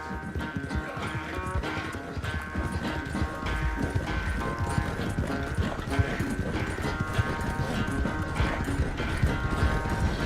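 A horse clip-clops along in Red Dead Redemption 2, its hooves beating in a steady, continuous trotting rhythm over a faint tonal game backdrop.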